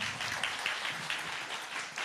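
Light audience applause at a protein nutrition talk, a soft, steady patter of clapping heard at a distance with no voices.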